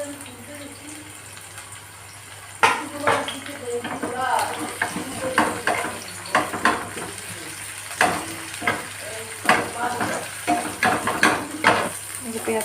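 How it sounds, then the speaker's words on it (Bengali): Sliced onion frying in hot oil in a pan, a steady close sizzle with bursts of crackle and stirring clatter starting a few seconds in, while a person talks over it. "আর এটার মধ্যে পেঁয়াজটা দিয়ে দিচ্ছি আমি। তেলটা পুরো চারিদিকে ছড়িয়ে গেছে।"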